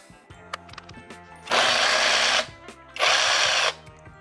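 A cordless reciprocating saw, Procraft PSS18 or PSS20, whirs in two loud bursts of about a second each, separated by a pause, with faint clicks and handling noise between them.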